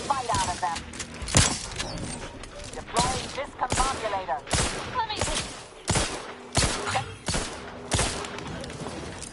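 Gunfire in The Outer Worlds 2: a string of sharp, loud shots comes at uneven intervals, some in quick clusters, with a voice talking underneath.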